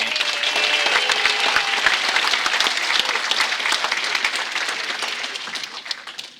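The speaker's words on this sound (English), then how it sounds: "Give a nice round of applause right here" Loud, dense applause from a crowd at a community sports night as a special guest is introduced, sustained clapping that holds steady then tapers slightly toward the end.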